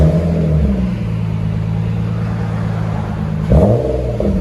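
A 2012 Nissan Altima SR with a 3.5L V6 and Magnaflow Magnapack dual exhaust, heard close up with a steady loud engine drone and a short rev rising near the end, with no talking.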